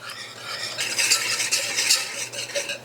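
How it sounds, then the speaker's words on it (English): A wire whisk beats a mix with hot water in a bowl, making quick, uneven clinking and swishing strokes close by, bright and busy for a few seconds with no voices. "I like to get my whisk and just whisk it up."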